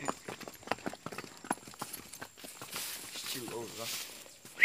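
A horse's hooves clip-clop in quick irregular thuds while it jumps a creek with a rider aboard, close by, under people talking.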